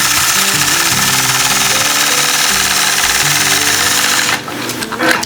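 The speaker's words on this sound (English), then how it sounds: "Let's engage the machine and stitch point to point." Sewing machine free-motion stitching a quilt with a ruler, a loud, close, rapid continuous mechanical chatter that runs steadily and then stops, with a few clicks after it.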